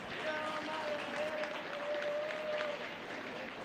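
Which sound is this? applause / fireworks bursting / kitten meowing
applause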